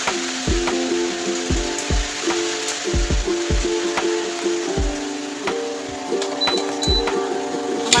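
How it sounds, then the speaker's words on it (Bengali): Rain pours steadily outdoors in a continuous broadband hiss, with regular knocking taps, probably drops hitting a hard surface, repeating throughout. "আবার বৃষ্টি চলে এলো"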